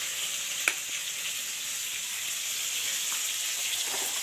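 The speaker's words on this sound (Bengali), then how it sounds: "রুই মাছটা একদম ভাজা হয়ে গেছে" Pieces of rohu fish fry in hot oil in a pan, giving a steady, close crackling sizzle with one sharp pop near the start and no talking.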